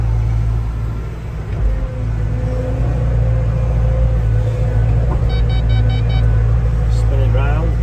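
A new CAT 313 excavator loads a scoop of material into a trailer, its diesel engine rumbling steadily and loudly throughout, with some mechanical clatter and a person talking over it.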